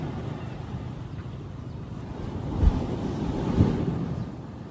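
Sea waves wash on the shore at Tioman Island, Malaysia, heard as a low, steady surging rumble mixed with wind buffeting the microphone, with two slightly stronger swells.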